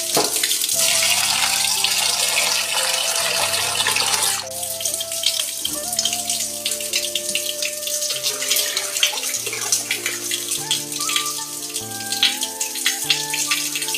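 Tap water runs loudly while raw chicken is rinsed in a kitchen, a strong gushing stream that turns to splashing and intermittent pouring as the meat is handled.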